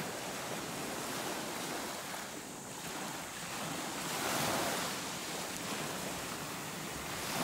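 Strong ocean waves breaking along a shore, a continuous broadband wash of surf with gusting wind buffeting the microphone, swelling louder midway, no talking.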